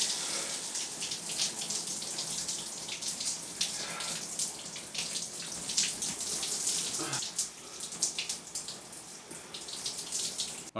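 Cold shower water running steadily, a close, continuous hiss and splatter with irregular splashing changes as a body moves under the spray.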